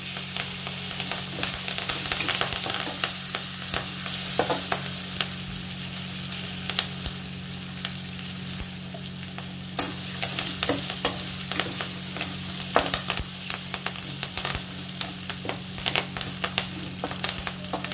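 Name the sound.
green chillies and curry leaves frying in a pan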